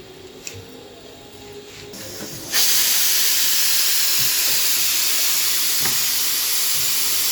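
A pressure cooker on a kitchen stove vents steam: after a few seconds of quiet kitchen background, a loud steady hiss abruptly starts and continues unbroken, close and dominant, with faint clinks beneath.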